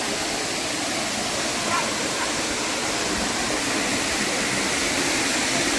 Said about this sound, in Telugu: అక్కడి నుంచి పడే వాటర్ ఫాల్స్ నుంచి వాటర్ మొత్తం ఈ వంకలోనే వెళ్తాయి